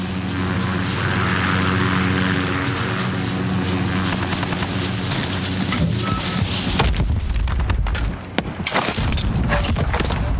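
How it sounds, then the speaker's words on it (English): A UAV flies overhead in a Call of Duty Modern Warfare hardcore multiplayer match: a steady engine drone holds for several seconds, then fades out into scattered clicks and small game sounds. "UAV ready for flight. Allied UAV overhead."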